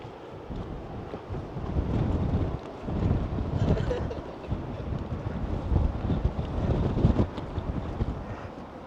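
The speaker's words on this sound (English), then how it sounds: "It's windy." Strong wind buffets the microphone in gusty surges on a beach in Ireland, with a roaring, rushing quality of an exposed seaside spot; no speech.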